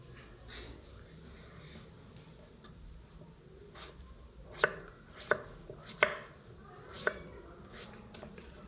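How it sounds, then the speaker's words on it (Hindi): A knife chopping pumpkin into small pieces for Punjabi pumpkin halwa, with a handful of sharp, separate cuts against a board in an irregular rhythm over a quiet room background. "ये देख लीजिए, ये कतलियाँ हो रही हैं इसकी"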